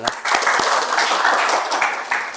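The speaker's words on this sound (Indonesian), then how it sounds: "tepuk tangan untuk semuanya" Schoolchildren and staff applaud together at a school gathering, a loud, dense burst of clapping with a few sharp individual claps standing out and no talk.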